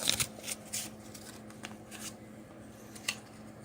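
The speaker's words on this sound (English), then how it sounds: "Fold an appropriate size filter paper in quarters" Paper filter being folded into quarters for a funnel in a chemistry lab, a few short crisp crinkling rustles spaced through a quiet room with a faint steady hum underneath.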